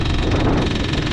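Yamaha DT 50 motorcycle engine and exhaust running steadily and loud close by, a continuous rough mid-pitched drone with faint rhythmic pulsing and no voices.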